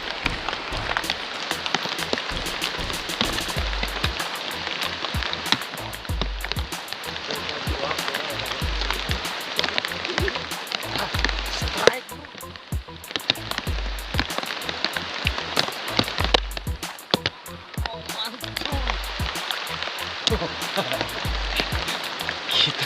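Steady rain patters on surfaces outdoors during a freshwater fishing trip for tawes fish, a dense continuous hiss lasting throughout with faint low thumps and brief quieter gaps.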